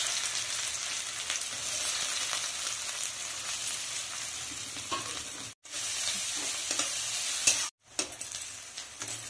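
Chopped onions sizzle in hot oil with cumin seeds, a steady dense crackle with occasional stirring clinks and two short gaps, no talking.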